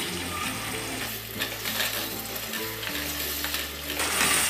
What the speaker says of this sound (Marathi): आता हे आपण पालकाची पेस्ट जी केली होती कच्च्या पालकाची, ते याच्यामध्ये टाकू.